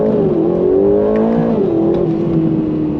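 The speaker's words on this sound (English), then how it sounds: "The sound of that V8." A 2025 Aston Martin Vantage V8 accelerates hard in track mode with paddle shifts. The loud, close engine note climbs in pitch and dips sharply at each upshift.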